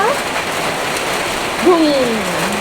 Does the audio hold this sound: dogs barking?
no